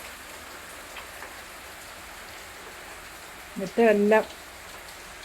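Heavy rain pours down in cold weather, a constant soft hiss of falling water heard throughout, briefly joined by a single spoken word near the end.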